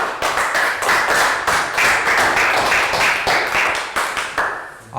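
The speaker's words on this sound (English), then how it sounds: "Round of applause." Classroom round of applause from a group of young primary pupils, steady clapping in overlapping bursts filling the whole stretch, fairly close and loud, easing slightly toward the end.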